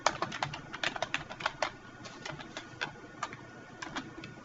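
Quick, light keystrokes on a computer keyboard while entering a slide title in PowerPoint, a fast run of clicks at first that slows to scattered taps, close and fairly quiet.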